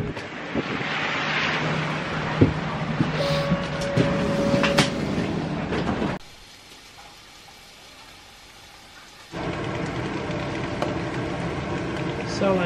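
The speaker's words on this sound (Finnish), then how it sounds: "Ratikka live!" A tram running on rails at a Christmas market, a steady rumbling rolling noise with a sustained whine and clanks, loud and close, dropping away briefly to quiet in the middle before the rumble returns, with wind buffeting the microphone.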